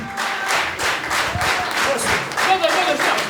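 Audience applause at a performance by the folk band Baciarusy Nocne from Maruszyna, a steady dense wash of clapping sustained throughout with crowd noise mixed in.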